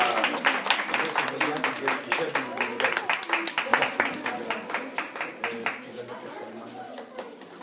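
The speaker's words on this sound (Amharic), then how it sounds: "ሱመያ ቢላል የት አለች? እቹት አጨብጭቡላት።" Audience applause for Sumeya Bilal at an Easter event at Tikur Anbessa, steady rhythmic clapping from a crowd that gradually thins and fades out, with chatter in the background.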